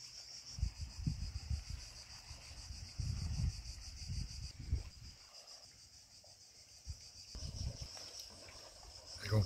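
Cicadas sing in wild coastal scrub on Pag island, Croatia, a steady high buzzing drone held throughout, with wind gusts rumbling over the microphone beneath.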